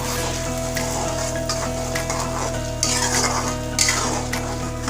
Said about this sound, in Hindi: आप देख सकते हैं हमारा मसाला कितने अच्छे से पक रहा है